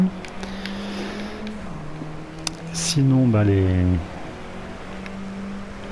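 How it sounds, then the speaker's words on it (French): A muffled car engine in the racing game Driveclub on PS4, driving in rain, drones steadily at a low, even pitch, with someone talking briefly over it partway through. "Avec le bruit du moteur qui est un petit peu assourdi."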